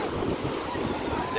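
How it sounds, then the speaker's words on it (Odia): Ocean waves roll onto Puri beach with a constant, loud wash of surf and wind noise buffeting the microphone, close and unbroken. "ଦେଖନ୍ତୁ କେମିତି ପୁରା ସୁନ୍ଦର ଦେଖାହେଉଛି ସମୁଦ୍ର"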